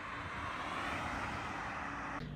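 An electric steering column motor in an older Mercedes whirs steadily as the wheel adjusts, a smooth continuous hum that stops with a faint click near the end, with no talking.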